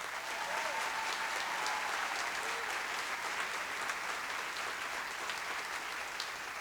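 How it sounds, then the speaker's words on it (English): Steady, dense applause from a convention audience fills the whole stretch, a broad even wash of clapping with a faint voice or two underneath. "Let's give him a big round of applause."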